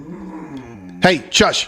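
A household dog growls low and steady, then breaks into a few sharp yips and barks close by, with people talking over it.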